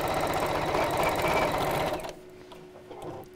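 A domestic sewing machine runs steadily while stitching a trapunto quilt along the seams, a loud continuous whirring motor with rapid needle chatter that stops after about two seconds, leaving quiet room tone.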